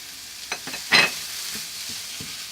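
Close sizzling of garlic frying in a hot pan with a few scraping stirs and one brief louder crackle, the frying hiss continuing steadily underneath.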